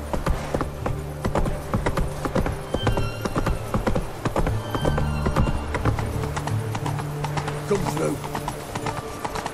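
Horse hooves clip-clop at a steady gallop in The Witcher 3 on a PC at 4K, a fast continuous rhythm heard close under a man's spoken dialogue and game sounds.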